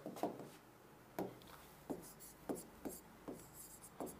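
Chalk or marker strokes on a board while a rule is written out, a series of short scratchy taps spaced irregularly, close and fairly clear against a quiet room.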